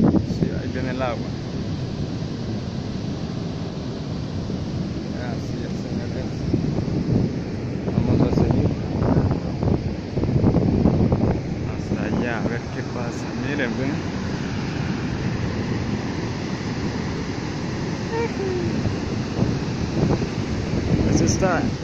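Ocean waves rolling onto a beach, a loud continuous wash with surging swells and heavy wind buffeting the microphone, while someone talks at times over the surf.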